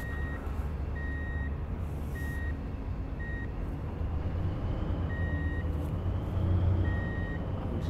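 A truck in the video game Truck and Logistics Simulator, working a construction job, sounds its reversing alarm: evenly spaced high beeps repeat over a steady low engine rumble, with no talking.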